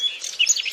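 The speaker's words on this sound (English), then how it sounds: "The green finch, Hypocanthus spinoids." A greenfinch gives short, bright chirping calls close by, several quick high notes in under a second with no other sounds.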